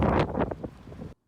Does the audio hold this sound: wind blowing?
yes